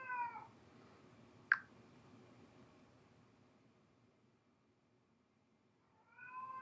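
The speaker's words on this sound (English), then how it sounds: "Her meows carry 2 small messages." A cat meows twice, once at the start and again at the end, with a sharp brief click between and a quiet room hush filling the gap.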